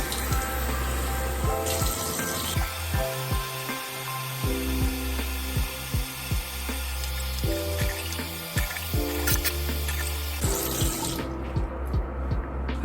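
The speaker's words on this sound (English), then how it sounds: "let's go ahead and wash our face with this." Water runs from a tap into a bathroom sink during face washing, a steady close splashing stream with shifting gurgles and clattering handling sounds, then cuts off near the end; no speech.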